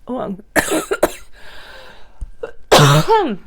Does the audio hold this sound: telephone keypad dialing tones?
no